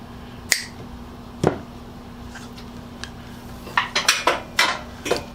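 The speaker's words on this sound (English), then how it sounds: "Clip off the end of the cord." Sharp snipping clicks come from cutting off the end of the power cord on a Black & Decker 4½-inch professional angle grinder, model 2750 type 101. Two isolated snaps are followed by a quick cluster of close, crisp cuts.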